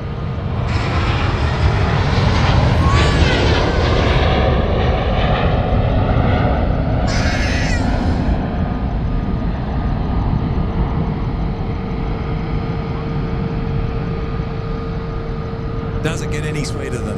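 An Airbus A350 jet at Sydney Airport at night gives a loud, steady engine roar that holds for the whole stretch and fades slightly toward the end, with people talking over it.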